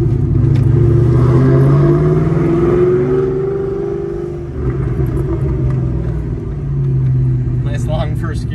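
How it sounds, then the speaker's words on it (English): A Magnum car engine pulls through a long first gear, a loud steady low rumble with rising tone under continuous talk from inside the car. "Nice long first gear. That's fun driving around."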